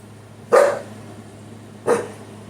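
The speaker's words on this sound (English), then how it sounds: "She's barking at me." Two loud, close dog barks, spaced about a second and a half apart, with a faint steady hum in between.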